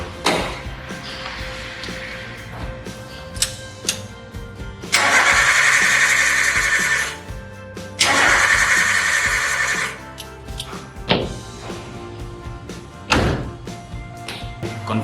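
An EFI car engine cranks with a starter in two sustained bursts, each lasting a couple of seconds, with clunks and thuds between and around them, close and fairly loud.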